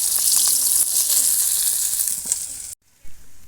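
Tengra fish being turned over as they fry in oil, a close, loud sizzle with a few clinks before the sound cuts off abruptly, then a brief soft bump.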